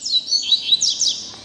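A caged coleiro, a double-collared seedeater, sings a run of bright, high chirps and twittering notes, loud and close, with no one talking over it.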